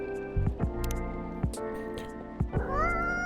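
Several meows from a cat in the video game Coffee Talk 2, with short plaintive calls rising and falling over a soft café background tone and music.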